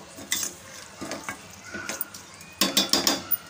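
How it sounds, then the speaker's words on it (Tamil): Roasted moong dal is stirred into a hot tempering in a pan, giving close scraping spoon strokes over a light sizzle, with a cluster of sharper utensil clinks and scrapes near the end. "சேர்த்து அப்படியே தாளித்ததோடு மிக்ஸ் பண்ணிப்போம்."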